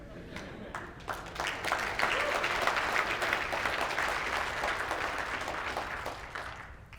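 Conference keynote audience applauds, a moderate, steady round of clapping from a crowd that builds over the first two seconds, holds, then tapers off toward the end.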